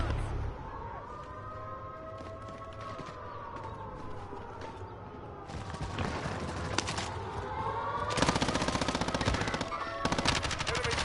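Heavy gunfire in a battle royale video game, with dense bursts and rapid automatic fire that build to loud, sustained shooting in the latter part over a wailing siren-like tone.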